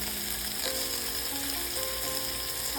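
Broccoli and cauliflower fry in a pot with beef in a one-pot beef and vegetable dish, a steady, dense sizzle that stays even and close throughout, with no talking.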